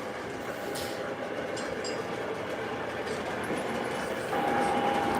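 An O scale model train runs steadily on a home layout, giving a continuous rolling rumble with faint clicking from the track and a thin steady whine that grows a little louder near the end.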